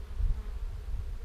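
Honeybees buzzing at a hive entrance as foragers carry in orange pollen, a steady low droning hum close by with no talk.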